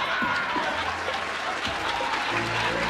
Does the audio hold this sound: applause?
yes